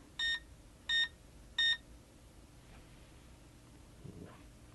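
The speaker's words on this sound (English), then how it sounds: "You have just heard 3 beeps from the DB150 indicating that that particular address is purged from this throttle." A DB150 model railroad command station emits three short, evenly spaced electronic beeps in quick succession, clear against a quiet room with a faint hum.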